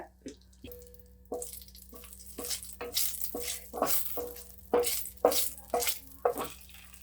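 Two bay leaves fry in hot oil in a kadai, giving soft crackling sizzle bursts that come and go over a low background hum.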